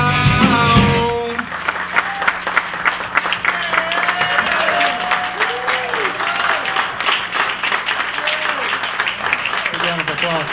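Audience applause and cheers for a live band and dancers at a showroom concert in Spartanburg, breaking out as the music ends and rolling on steadily with scattered claps and a host's voice over it.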